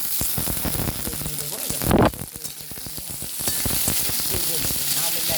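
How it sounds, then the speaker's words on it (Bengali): Cut potatoes frying in a pan, a close, continuous sizzle with stirring scrapes and a brief louder burst near the middle, then settling into a steady crackle. "আলুগুলো ভেজে নেব"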